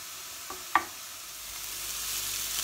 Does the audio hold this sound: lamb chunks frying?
yes